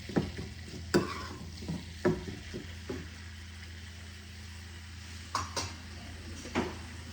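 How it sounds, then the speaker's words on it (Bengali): Tomatoes fry in a kadhai with a steady low sizzle, broken by repeated sharp scrapes and knocks of a spatula against the metal pan, close and without talk. "আমি ততক্ষণ পর্যন্ত ভেজে নেব যতক্ষণ পর্যন্ত টমেটোটা ভালো করে ভাজা হয়ে কাঁচা গন্ধটা চলে না যায়।"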